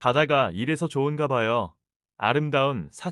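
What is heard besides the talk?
No distinct noise like a dog, phone or traffic.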